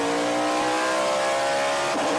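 A vintage race car in a mixed-class SVRA race at Circuit of the Americas, diving into turn 11, roars close and loud with a steady high-revving engine whose pitch climbs slightly throughout.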